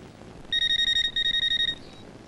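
A telephone rings loudly in two quick bursts of electronic trilling, close by and with no talk over it, then falls silent.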